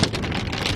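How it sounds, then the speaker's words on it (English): Hard hail pounding down during a storm with 70 mph winds and tornado nearby, a dense continuous roar of impacts with wind buffeting the microphone, loud and close. "hailing hard."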